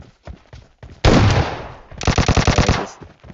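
Gunfire in the mobile battle-royale game PUBG Mobile: a loud burst of shots followed by a rapid automatic string of rounds, with quieter scattered sounds around them.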